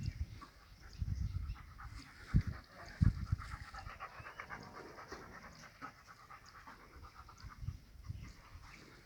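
A dog pants steadily and close by on a farm where a cow is kept, the quick breaths running throughout with a few sharper sounds and faint background noise.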